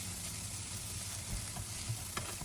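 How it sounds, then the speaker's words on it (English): Egg is stir-fried with luffa gourd in a hot pan, giving a quiet, steady broadband sizzle with a few soft scrapes and taps from a utensil, close and faint, with no talking. "now we're going to add our egg, and we're going to stir fry it"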